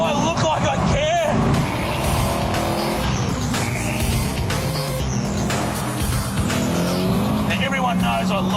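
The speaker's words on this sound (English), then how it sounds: "Now, everyone knows I love the sound of a V8." A loud V8 car engine roars and revs hard under a continuous din, with tires squealing and a voice talking over it.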